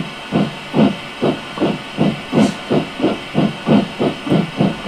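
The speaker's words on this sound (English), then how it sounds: "driving your steam engine." Rhythmic chuffing of a steam locomotive in the video game Train Simulator 2013, about a dozen evenly spaced hissing puffs over a constant background hum, close and loud.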